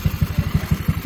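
A Yamaha Mio motorcycle engine idles close by, a loud, even putter of rapid regular pulses throughout with no speech.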